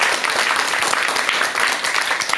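A lecture audience gives a big, loud round of applause to welcome the speaker, dense sustained clapping throughout with no talk over it.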